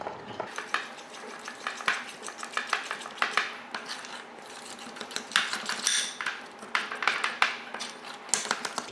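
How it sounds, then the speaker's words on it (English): Cream cheese frosting being mixed in a bowl, a utensil scraping and clicking against the sides in a quick uneven rhythm of close strokes, with no talking. "Give it a good mix, get it all well combined."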